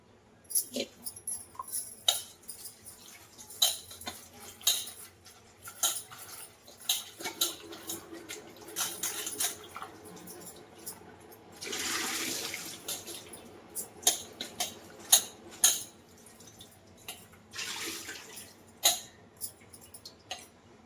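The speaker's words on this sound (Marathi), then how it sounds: "ही जी पालक जी आपण घेतली आहे तिला मस्तपैकी धुवून घेऊया आणि तिला शिजत ठेवूया" Water splashing and running in a sink as spinach is washed, with intermittent clinks of dishes and rustling handling, ongoing for a while, with some speech mixed in.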